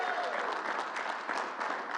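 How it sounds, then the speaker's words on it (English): An audience at a governor's COVID briefing gives a round of applause, brisk, continuous clapping with uneven bursts of claps, fairly close and unbroken. "Let's give the new grandfather a bigger round of applause."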